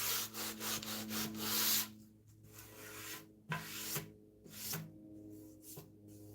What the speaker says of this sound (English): Got to isolate your sanding.